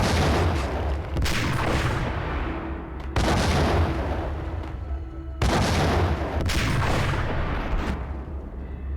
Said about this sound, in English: They're dropping grenades on me.